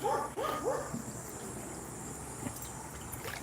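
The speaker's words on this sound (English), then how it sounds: "Maybe the dogs are barking because I'm talking." Dogs bark a few times at a moderate distance near a poolside lunch stop with a barbecue area, short yelping barks early on that then fade into quiet outdoor ambience.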